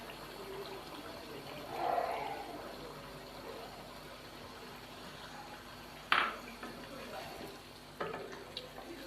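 Beef karahi cooking in a pan just after a cup of whisked yogurt goes in, a low steady simmer and sizzle with a few sharp clinks of a spoon or utensil against the pan, no talking.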